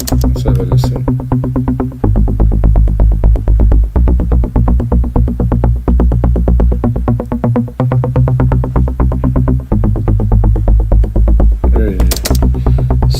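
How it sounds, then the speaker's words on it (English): Melodic techno track driving a repeating synthesizer melody over a steady pulsing low-end throb, loud and continuous throughout without pause. "Such a synth."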